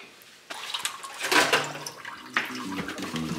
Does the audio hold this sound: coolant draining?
yes